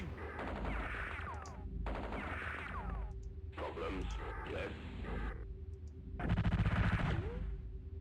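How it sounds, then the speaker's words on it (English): Bursts of automatic gunfire from units shooting at an enemy in the Spellcross strategy game, in three or four rapid clattering volleys. Electronic game effects sound between them, and the last burst is the loudest. "I'm gonna try and shoot this guy down"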